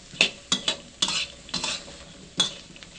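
Thinly sliced galangal and minced lemongrass are stir-fried in a pan for a Thai-Isan fermented fish chili paste. A spatula scrapes and stirs in quick repeated strokes over a steady sizzle, close and clear, with no talking.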